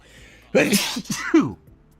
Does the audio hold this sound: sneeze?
yes